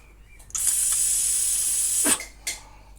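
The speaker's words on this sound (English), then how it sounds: "blow through it with compressed air" Compressed air hisses hard through a lawn mower carburetor in one sustained, loud blast of about a second and a half, then a short second puff follows.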